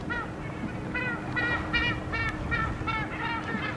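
Cape gannets circling over the sea give repeated harsh honking calls, several short cries spaced across the moment, moderately close above a steady wash of wind and surf.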